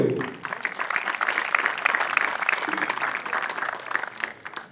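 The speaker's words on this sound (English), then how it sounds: "give her a huge round of applause" Spectators applaud a women's skeet shooting medalist at a world cup final in Nicosia, Cyprus: steady crowd clapping builds quickly after a brief voice at the start and holds at a fairly even level throughout.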